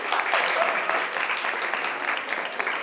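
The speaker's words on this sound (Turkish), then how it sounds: "şartlara göre kalınabilir diyenler bir alkışlayabilir" Continuous audience clapping at a talk show taping, full and even from start to finish.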